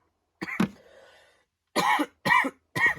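A burst of coughing: one cough, a short pause, then three sharp coughs in quick succession, close and fairly loud.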